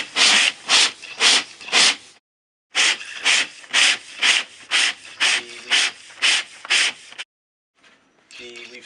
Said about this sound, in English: So we'll continue sanding until we get it flat.